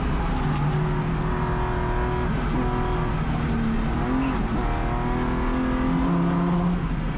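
A touring race car screams around Sonoma Raceway, its engine loud and close with rising and falling revs, quick downshifts and a blip through the turn, continuous with no voices.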